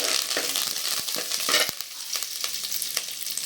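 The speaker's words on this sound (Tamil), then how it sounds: "கடலப்பருப்பு நல்லா வதக்கிக்கலாம் இந்த ஸ்டேஜில் கருவேப்பிலை கொஞ்சம் போட்டுக்கலாம்" Chana dal, urad dal and curry leaves fry in hot oil in a pan, crackling steadily and close, with sharp spatters and stirring scrapes, and no voices.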